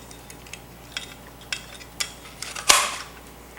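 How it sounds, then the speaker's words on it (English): A multi-blade Tari slicer pressing through a cauliflower crust pizza in a kitchen, a series of light clicks and taps building to one sharp metallic clack near the end, close and alone. "I love using this Tari slicer because it does 10 cuts at once"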